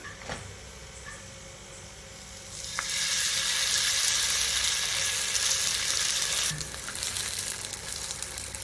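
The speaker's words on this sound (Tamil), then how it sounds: "தோசைக்கல்ல போட்டுக்கலாம்." Thiruvathirai adai sizzles on a hot dosa griddle, a soft steady frying hiss that swells louder after a few seconds and stays constant, close and without speech.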